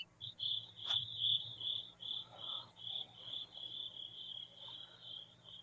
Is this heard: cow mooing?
no